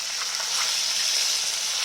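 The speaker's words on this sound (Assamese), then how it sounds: "মাছৰ মাথাত নিমখ হালধি দি মই এনেকৈ ভাজি আছোঁ।" A fish head coated in salt and turmeric frying in hot oil gives a steady, close sizzle that holds even and loud from start to finish.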